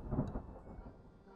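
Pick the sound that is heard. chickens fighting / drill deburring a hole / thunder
thunder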